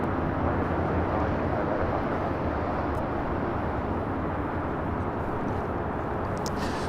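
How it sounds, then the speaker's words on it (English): Southwest Airlines Boeing 737-700 jet roaring on its takeoff roll at LAX, a steady broadband rumble holding loud and constant throughout, heard from a distance with no voices. "This is Southwest Airlines 894 taking off to Albuquerque on a"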